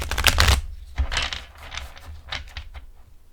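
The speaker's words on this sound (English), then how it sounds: "these feel amazing to shuffle" A thin-cardstock tarot deck being shuffled, giving a loud burst of riffling card flutter followed by several softer ruffling passes, close and alone with no talk.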